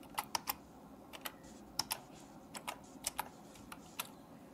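Keys on a computer keyboard are tapped in short bursts of quick clicks with brief pauses between, close and fairly quiet with no talking.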